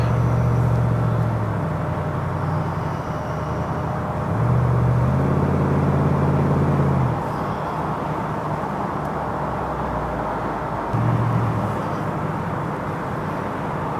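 A red 1965 Ford Mustang convertible with GT options cruises northbound on a freeway in heavy traffic, its engine giving a steady low rumble and drone that swells and eases with throttle, under constant road and wind noise.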